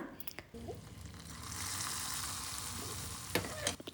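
Sweet pongal made with melted jaggery is stirred in a pot after fried cashews and raisins are added. A quiet bubbling sizzle plays under a few soft spoon scrapes and knocks.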